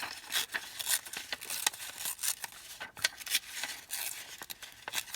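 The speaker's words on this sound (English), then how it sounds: "we could go one step further and put him even onto some book page and cut around that" Repeated short snips of scissors cutting around a playing card, crisp bright cuts coming in an uneven rhythm with papery rustle between them, close and fairly quiet with no talk.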